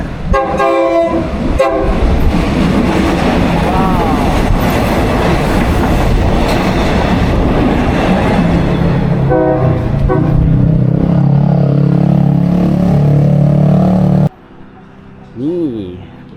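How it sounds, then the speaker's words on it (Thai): A train rumbles past up close with a loud, steady roar at Talat Phlu in Bangkok, sounding its horn in several blasts, then the noise cuts off abruptly near the end. "โอ้โหเป็นรถไฟอยู่ขบวนหนึ่งนะ"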